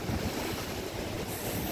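Sea waves wash onto a small beach in front of a bungalow at a Phu Quoc resort in Vietnam, a steady, dense roar of surf with no breaks and no voices.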